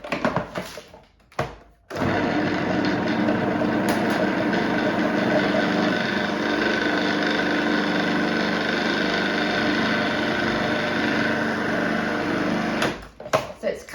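An electric whisk beats plain flour and egg into cookie dough for dreidel biscuits, a steady whirring drone running for about eleven seconds after a brief start, then cutting off near the end.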